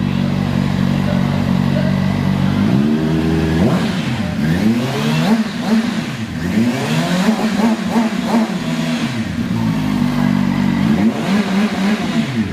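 A 2026 CF Moto 750 SRS motorcycle engine, rev-limited around 5,000, idling loudly up close then blipped through a series of sharp revs that rise and fall repeatedly.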